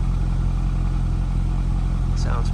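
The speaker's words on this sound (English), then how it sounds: "Coming to the back of the car here, I'll show you it's got the circular tail lights. They are turned on, and then here's your exhaust." A 2000 Chevrolet Corvette convertible with a 5.7L LS1 V8 idles at the exhaust, a steady, close, low rumble that stays even from start to finish.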